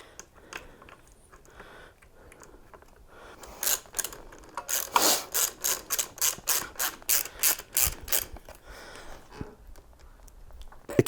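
Ratchet wrench tightening bolts on a cheap Amazon bike: a quick, even run of about a dozen close, crisp clicks, with quieter handling noises before and after.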